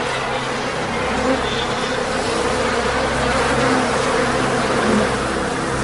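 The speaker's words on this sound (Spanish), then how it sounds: "Y si te atacan las abejas asesinas, las consecuencias pueden ser trágicas" A dense, steady buzzing of many killer bees fills the air continuously, loud and close, with a faint low rumble underneath.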